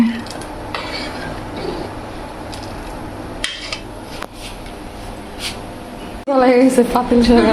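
A spoon works steadily around a pot of payesh, Bengali rice pudding, giving repeated soft scrapes and metal clinks. Near the end a louder burst of clatter is heard and a voice starts talking.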